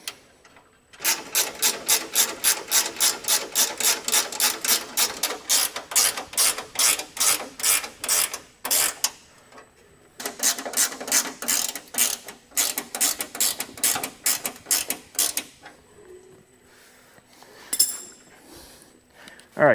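A hand ratchet tightens the center bolts on a truck fender in rapid, evenly clicking strokes. It runs in two long bursts separated by a short pause, up close and loud, with a few scattered clicks at the end.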